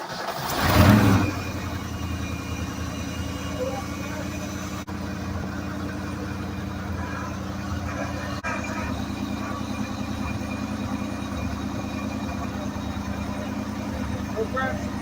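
A 1965 Ford F-250 pickup engine that sat unused for five years cranks and catches with a loud burst, then settles into a steady, rough running idle close by, with people talking over it.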